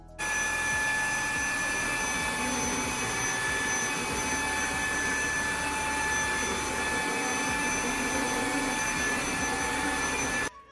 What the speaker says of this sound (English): we're gonna see how well this wash vac F20 can pick up the dirt